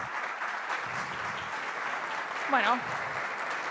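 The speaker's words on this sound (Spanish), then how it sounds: "Un fuerte aplauso." An audience applauds at the close of a talk on API modelling, a steady patter of clapping at moderate distance while a voice speaks briefly over it.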